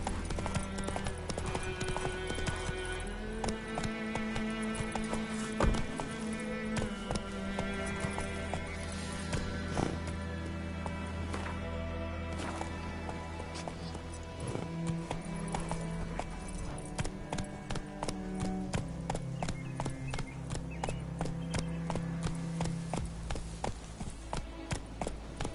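Roach, Geralt's horse in The Witcher 3, clip-clops along at a steady walking rhythm, the hoofbeats mixed under a dense, continuous layer of game music for the whole stretch.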